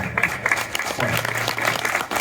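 An audience at a Mortal Kombat 30th anniversary convention panel claps in steady, dense applause throughout, with a voice faintly audible beneath it.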